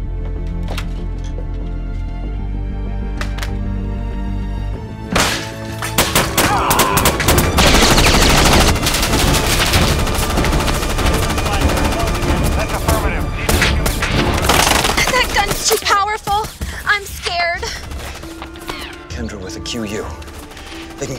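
Rapid paintball gunfire from a group of players, bursts of pops and volleys loud and close over a music score, with people shouting and talking throughout.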